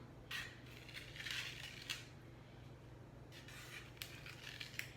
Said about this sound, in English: You can take your offset spatula and just go around.